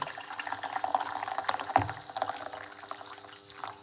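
Hot water pours into a cup close by, a gurgling trickle with small splashes and one sharper clink partway through.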